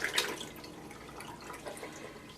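Cooled wool fiber being lowered into a lukewarm water rinse bath, faint splashing and dripping that starts with a small slosh and then settles into quiet trickles.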